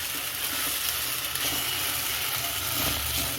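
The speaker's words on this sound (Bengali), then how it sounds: "ভালো করে মশলাটা নেড়ে নিচ্ছি, না হলে একটা ফ্লেভার আসবে না।" Masala paste for a Bengali-style giant prawn and poppy-seed dish sizzles steadily in a pan as it is stirred, a close, even frying hiss with faint scraping and no talk.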